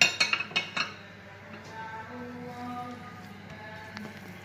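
Spoon clinks and scrapes against a bowl while aloo paratha potato filling with onion, green chilli and coriander is mixed, a burst of quick clinks at the start followed by softer, faint stirring.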